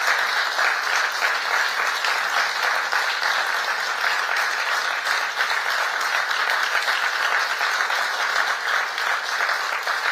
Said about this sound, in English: the loudest cheers are for Kimberley, of course